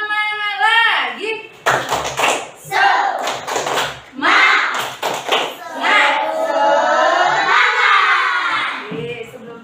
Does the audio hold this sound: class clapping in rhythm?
yes